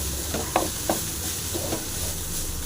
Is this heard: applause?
no